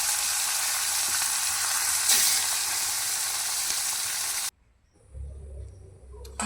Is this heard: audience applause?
no